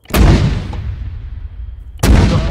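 Artillery rounds fired in a military video game ring out as two loud, sharp booms, one at the start and another about two seconds later, with the first blast's rumble decaying in between.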